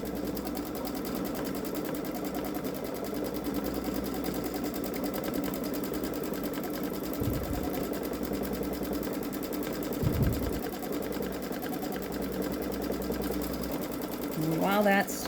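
A Baby Lock Solaris Vision sewing machine runs steadily through edge-to-edge quilting, a continuous mechanical whir and stitching rhythm across the whole span, with a person talking over it and a brief higher rattle near the end.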